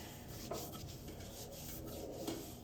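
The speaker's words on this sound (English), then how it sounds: "sand it up to 320" Sandpaper rubbing over a spalted wood bowl at 320 grit, a continuous soft rasping with faint rhythmic strokes, close and fairly quiet, with no talking.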